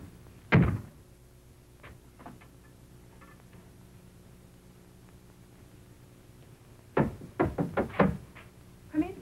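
A few sharp knocks land on a wooden door, a quick cluster near the start and a longer run of raps a few seconds later, clear and close over a quiet room with low hum.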